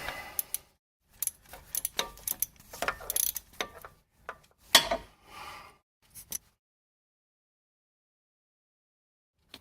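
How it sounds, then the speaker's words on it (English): A 1/4 inch drive ratchet turning a 10 mm socket while removing a transmission input speed sensor on a 2008 Saturn Astra, giving bursts of close mechanical clicking and rattling across the first six seconds, then silence. "I got a little 10 millimeter socket on a 1/4 inch drive."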